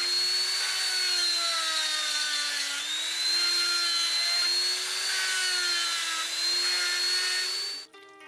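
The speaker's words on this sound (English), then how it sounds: "With the careful use of a pounding tool called a kama and an electric grinder, he does the finishing work" An electric grinder whines continuously at close range, finishing fired ceramic pieces in a pottery workshop; the high, steady pitch wavers slightly before cutting off at the end.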